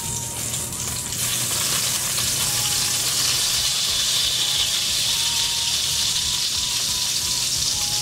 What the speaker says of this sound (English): You do want the sizzle.